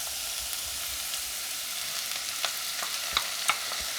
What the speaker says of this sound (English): keep on stirring and roasting this thing for a while